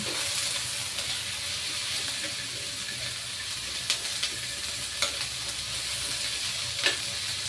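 Bitter gourd (ampalaya) sautéing with onions in a pan gives a steady, close sizzle and hiss of frying, with a few sharp clicks and scrapes of stirring breaking through.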